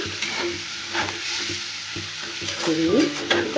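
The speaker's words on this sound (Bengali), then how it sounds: "ভালো করে আলু আর ফুলকপি একসাথে মিশিয়ে নেব" Potatoes and cauliflower sizzle in a frying pan while a utensil stirs them, the scraping and mixing strokes coming in a busy close-up rhythm over a steady fry, with no talk.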